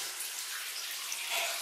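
Water running down inside a gold mine makes a steady, soft hiss and trickle that continues evenly throughout, fairly faint and without voices.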